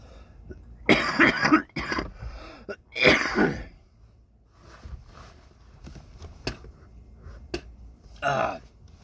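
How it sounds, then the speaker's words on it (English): A person coughs and hacks in loud bursts near the mic, with two strong coughing fits early on, then quieter throat noises, sniffs and a last short cough near the end. "you're gonna have to listen to me spit and hack and cough"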